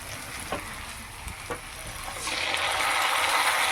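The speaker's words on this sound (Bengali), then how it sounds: "আলুর সাথে পেঁয়াজটা একটু ভাজা ভাজা করে নেবো" Onions frying with potatoes in a pan crackle steadily, with a few sharp stirring taps early on, then the sizzle grows louder and fuller for the last second and a half, heard close without speech.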